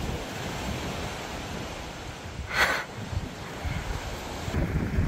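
Ocean waves wash steadily onto the beach below the village of Bure in Liberia, a broad continuous roar of surf with wind buffeting the microphone and one brief louder swell midway.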